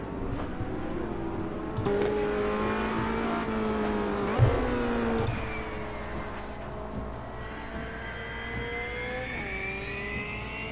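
A high-pitched race car transmission whine in a racing video game at Laguna Seca climbs in pitch through repeated gear shifts, steady and close, without exhaust rumble.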